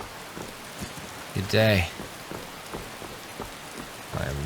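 Steady rain pours down in an outdoor Skyrim game world, a continuous hiss of drops under the scene, while a character's brief spoken greeting and a voice talking over it cut through.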